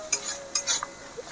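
A spoon stirs a river-fish curry with poppy-mustard paste and Kashmiri chilli powder in a pan, a few quick metallic scrapes and clinks in close succession.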